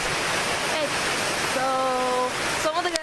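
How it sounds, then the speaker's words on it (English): Steady broadband rush of a rain-fed waterfall at McConnells Mill State Park fills the whole clip, with a brief tonal whistle-like sound and a few faint sounds briefly above it near the end. "It rained all day and then there was a waterfall here."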